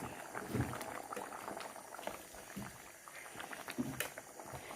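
A pot of coriander fish curry simmers at a steady boil, with soft bubbling and popping throughout, fairly quiet and close, with no voices.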